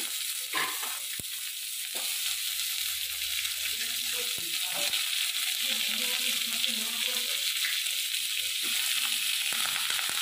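Carrots, beans and potatoes just added to a hot pan with a little turmeric: loud, steady sizzling and frying with occasional stirring scrapes, no voices.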